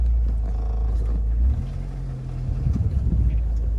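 A 1998 Jeep Wrangler with a newly replaced transmission, driving on a road: a steady low engine and road rumble, close and continuous, easing in the middle and then building again.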